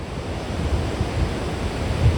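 Ocean waves breaking at a surfing beach near Huntington Beach Pier, a loud continuous wash of surf with wind buffeting the microphone.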